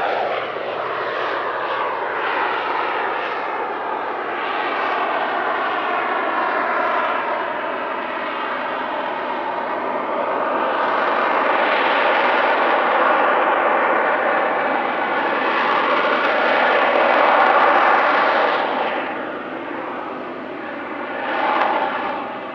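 An airshow aircraft at Air Legend 2024 flies slowly into wind at about 15 knots at a very high angle of attack, its engine a loud, continuous drone that swells and fades, with no talk.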